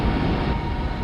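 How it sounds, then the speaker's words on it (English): Winds in the thick atmosphere of Saturn's moon Titan, recorded in 2005 by the Huygens space probe during its descent to the surface: a dense, constant low rumble with broad hissing noise and no talking. "The sound of the winds from a tiny moon nearly 1 billion miles away."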